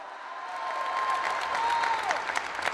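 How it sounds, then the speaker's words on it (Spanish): An audience at a migrant shelter event in Zuazua, Nuevo León, claps in steady, sustained applause, with a faint drawn-out tone running through it. "con un fuerte aplauso, recibimos"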